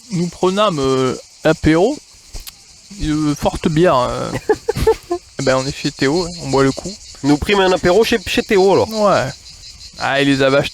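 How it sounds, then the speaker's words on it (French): Cicadas sing under a cedar tree during a summer hike near Ventabren, a steady high buzz running throughout beneath lively French conversation between friends at a table. "à écouter les cigales chanter assis à table?"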